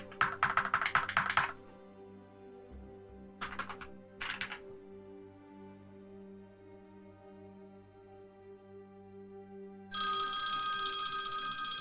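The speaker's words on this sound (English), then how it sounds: "This is a phone call from the United States" Keyboard typing at the start and a few later keystroke bursts give way to a steady, bright electronic telephone ring for an incoming call, which sounds close and continuous through the final seconds.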